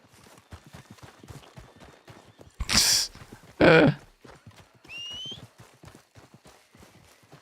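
Horse hooves clip-clop in a quick game-like rhythm in Red Dead Redemption 2 amid background sounds, broken by a couple of loud bursts and a short whinny-like squeal.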